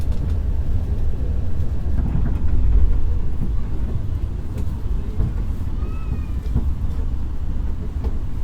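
A direct train from Semarang pulls into Gambir station in Jakarta, a steady low rumble of rolling wheels and carriage noise with a brief faint squeal near the end.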